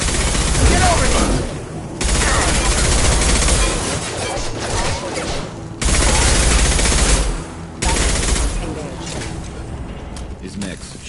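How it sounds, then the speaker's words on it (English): Mechs fire guns in the video game Mass Effect 2, loud sustained bursts of automatic gunfire broken by brief pauses, with a voice talking over the shooting. "His mechs shoot without question."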